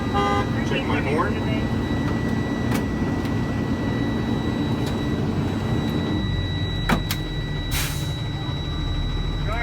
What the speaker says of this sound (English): Check my horn.